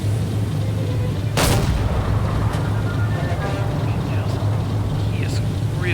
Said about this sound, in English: I'm gonna start shooting manually.